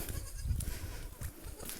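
A goat bleats a few times at close range, its wavering calls rising over a steady outdoor background.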